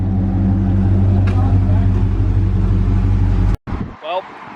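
A heavy Hemi V8 engine in a Ram truck rumbles loudly and steadily close by, then cuts off abruptly, followed by a brief burst of noise and a faint voice.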